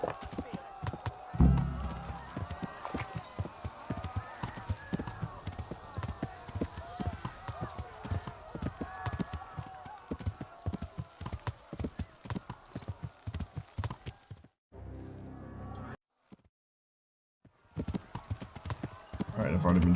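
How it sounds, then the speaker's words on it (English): Horse hooves gallop in the medieval game Kingdom Come: Deliverance, a steady rapid clip-clop that runs almost throughout with a brief break near the end, while a person talks over it. "Get on the horse."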